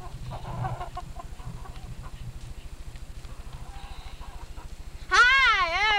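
Chickens cluck in a 1996 home movie, soft intermittent clucks over a steady rhythmic mechanical thrum, ending in a loud wavering squawk.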